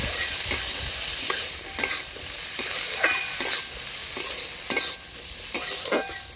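Finely chopped potato and carrot frying in a pan, a steady bright sizzle with regular scraping strokes of a spatula stirring them every half second or so, close by.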